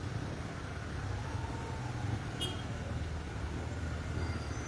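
Congested road traffic on Mabini street near a stoplight: a steady, low idling engine drone fills the scene, close and unbroken, with a brief high chirp partway through.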